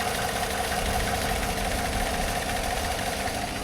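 A Dodge Charger's engine runs at a steady idle, a continuous low, even rumble with a faint mechanical tick, close and unchanging, with no voices.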